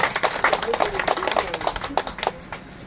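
Scattered hand clapping breaks out at a community meeting in Nuse, a loose irregular patter of claps that thins and fades toward the end, with people talking over it.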